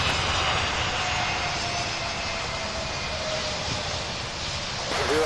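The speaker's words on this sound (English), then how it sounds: "We have another flight landing on the other side." Airliner landing at Louisville International Airport, a steady loud roar of jet engines sustained throughout with no talking.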